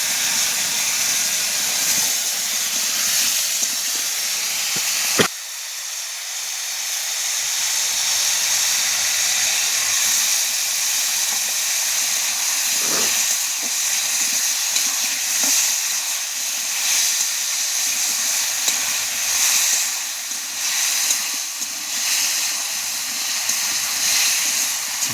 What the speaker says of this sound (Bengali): মশলাটা দিই, মশলাটা ভাজা হবে।